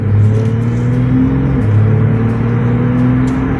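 A Porsche 911 Carrera in sport mode accelerates hard, with a loud, close engine note that climbs steadily, dips briefly at a gear change and then pulls up again.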